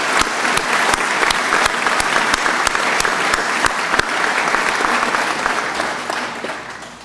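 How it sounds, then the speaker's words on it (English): Audience at a police academy graduation applauds steadily, dense clapping with a few sharper claps standing out, holding loud throughout and tapering slightly at the end. "How about a round of applause for these guys?"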